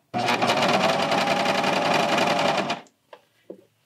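A serger stitches a neckband onto a Hemlock tee in one steady, loud, close whirring run of nearly three seconds, then stops, followed by a few faint handling clicks.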